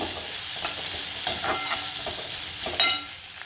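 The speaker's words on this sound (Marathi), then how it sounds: "मिरची पण चांगली परतून घेते" Green chilies and fenugreek leaves fry in a hot pan with a steady broadband sizzle, broken by a few sharper bursts of stirring. The sound is close and continuous, and no one speaks.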